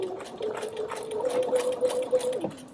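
A sewing machine backstitches the seam of a fabric pouch, running in a fast, steady whir with rapid needle ticks, close up. It stops abruptly near the end.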